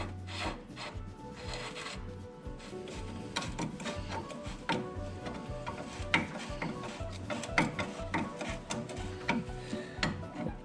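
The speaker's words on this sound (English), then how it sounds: "re-put this screw cap on and tighten it" Metal-on-metal rubbing and rasping as a screw cap is turned and tightened into a drag link on a motor vehicle during a rebuild, with repeated gritty scraping strokes and small ratchet-like clicks over a steady low hum, close and moderately loud.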